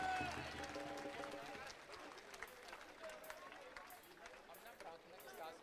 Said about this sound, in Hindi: तालियां नहीं रुकनी चाहिए, चल जोरदार तालियां से तालियां